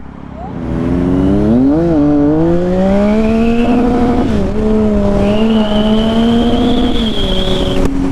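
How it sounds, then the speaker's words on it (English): A GSXR engine revs hard and holds near its peak, the pitch rising and wavering as it bounces off the rev limiter, loud and close with no talking. "I keep bouncing this off the rev limiter."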